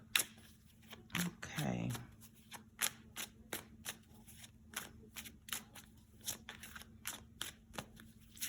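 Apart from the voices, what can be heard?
handling and shuffling tarot cards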